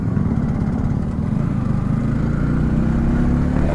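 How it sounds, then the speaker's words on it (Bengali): A motorcycle rides onto the Padma Bridge, its engine holding a steady, loud mid-pitched drone alongside continuous road and wind rumble. "অনেকদিন পরে পদ্মা সেতুতে বাইক নিয়ে উঠলাম।"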